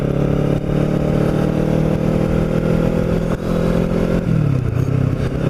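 A Kawasaki Ninja motorcycle ridden toward Cape May, its engine droning loud and close with a steady mid-pitched hum, briefly dipping before shifting gears near the end.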